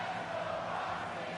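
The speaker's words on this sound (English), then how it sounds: "You hear the crowd chanting for Roxanne Perez." Arena crowd in the WWE 2K25 wrestling game, a dense wash of massed voices chanting and roaring in a brief, steady burst.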